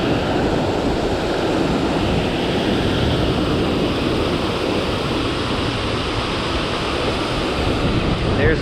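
Strong wind roars steadily across an open boat on Center Hill Lake while bluegill fishing, a broad continuous rush with buffeting on the microphone and no clear voice over it.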